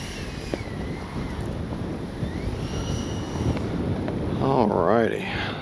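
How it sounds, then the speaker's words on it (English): Gusty wind buffets the microphone at an RC jet flying session, with low rumbling noise, and a brief high whistle and voice-like warble rise near the end. "It's windy."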